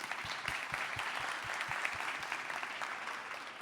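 An audience claps steadily at a marketing conference session, a dense even wash of hands sustained throughout, moderately distant and without cheering.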